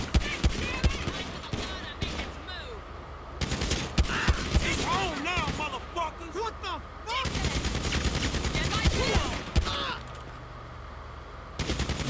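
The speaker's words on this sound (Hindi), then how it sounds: "देखा मुझे पता था शूट करेंगे" Police shootout in the video game GTA 5, with dense bursts of rapid gunfire and scattered single shots, loud and near, while someone talks excitedly throughout.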